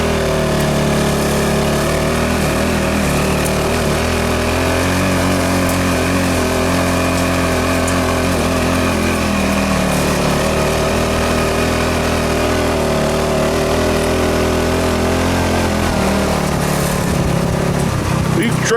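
An American Sportworks Carbide 150cc go-kart engine labours steadily up a steep wooded hill, a loud continuous drone with shifting pitch close by throughout.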